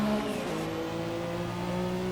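A race car engine in the sim Assetto Corsa on the 1983 Detroit street circuit holds a continuous, loud drone whose pitch slides down and then levels off, steady throughout with no voices.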